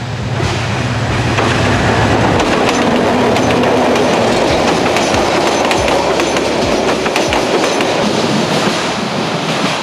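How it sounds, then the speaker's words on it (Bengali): A train rolls past close by, a loud continuous rumble with rhythmic clickety-clack of wheels over rail joints and occasional metallic squeal, steady for the whole stretch. "ট্রেন চলে আসছে।"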